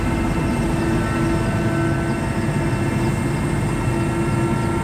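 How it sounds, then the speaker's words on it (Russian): A search and rescue helicopter flies overhead during a water rescue training exercise, giving a steady, loud engine and rotor roar that holds without a break and with no voices. "Сделав круг, поисково-спасательный вертолет подлетает к условленному месту происшествия."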